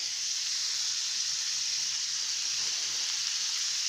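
Green onions frying in a pan, giving a steady, even sizzle with a bright, hissing texture that holds at a moderate level, close by and with no talking.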